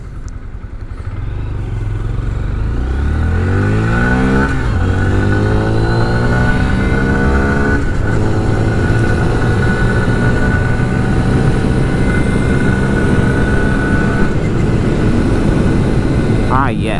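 A 2022 Honda Grom mini motorcycle, nearly new, accelerating from a standstill and revving up through several gears, each shift dropping the pitch before it climbs again, loud and close with a brief voice at the start.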